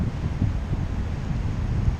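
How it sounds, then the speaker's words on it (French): Steady wind sweeping along a coastal slope parallel to the beach at Legzira, Morocco, a low continuous rumble buffeting the microphone, with no voices. "le vent il longe la pente, hein, vraiment."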